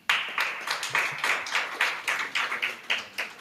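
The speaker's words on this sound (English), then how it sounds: "I would like you to give them a round of applause" A small audience claps for a participating primary school at a press briefing for a football tournament, producing a short burst of close, uneven clapping that lasts a few seconds with no talking over it.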